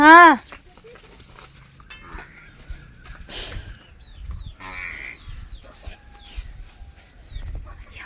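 A buffalo calf gives a short, loud bleating call at the start, followed by quieter farmyard noises and faint shuffling.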